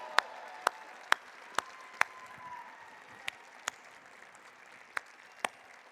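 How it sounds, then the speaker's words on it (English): Sparse, isolated hand claps at the Riverside County State of the County event, about ten sharp single claps spread unevenly over a quiet room rather than a full ovation. "Give him a round of applause, please."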